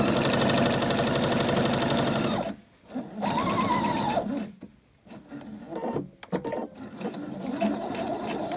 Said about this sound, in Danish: Og så syr jeg herned mod min markering for,